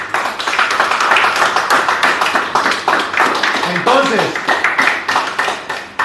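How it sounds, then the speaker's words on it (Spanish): Church congregation clapping for the Lord during a sermon, a loud, continuous stretch of rhythmic hand claps with a brief spoken word over it. "¿Quién le da un aplauso al Señor?"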